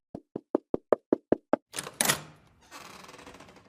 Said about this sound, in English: a stranger came and knocked on the door